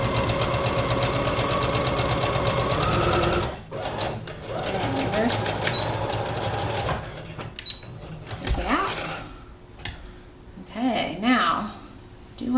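A sewing machine stitches minky fabric for a shrug, running in a fast steady burst for several seconds, then shorter stop-start runs, with a voice talking quietly in the later part.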